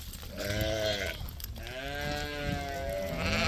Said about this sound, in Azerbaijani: Bax görsən kuzular, bax kuzular bunlardır